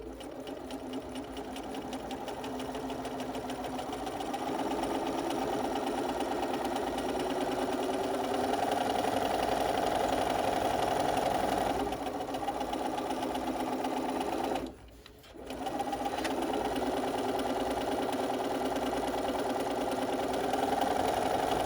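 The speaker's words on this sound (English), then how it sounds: "lower the presser foot, and then continue to sew" A Bernina sewing machine stitches a fabric face mask, its steady mechanical whir running loud and continuous for about twenty seconds, broken by one brief pause near the end before it resumes.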